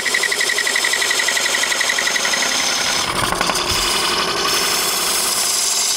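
Wood lathe turning a crematory urn, with a small spindle gouge cutting steadily into the spinning wood; a continuous, fairly loud whirring grind with a rattling texture and a brief heavier cut midway.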